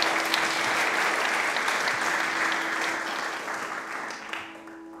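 Steady audience applause welcoming Tracy Cochran to a mindfulness meditation talk, a dense wash of many clapping hands at even strength that slowly tapers off near the end.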